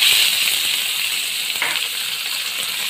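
Cumin, curry leaves and onion fry in hot oil, a loud steady bright sizzling hiss close by that holds throughout, no voices.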